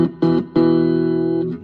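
An electric guitar plays through a Joyo Oxford Sound pedal with the effect switched off, giving a clean, undistorted tone at low volume: a short note, then a longer sustained note, with no other sound.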